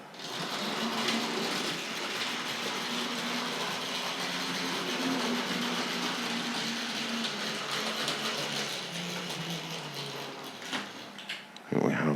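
A Hornby Ivatt Class 2 model locomotive clatters and whirs steadily along its track for several seconds, a continuous mechanical rattle close by.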